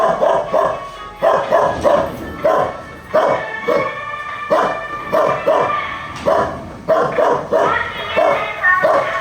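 A dog barks repeatedly in short bursts, fairly close and loud, with brief pauses between volleys of barking.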